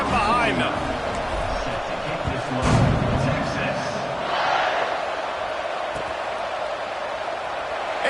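Football stadium crowd cheering as the kickoff begins after a successful point after, a broad sustained roar of many voices with a swell midway, heard loud and continuous throughout.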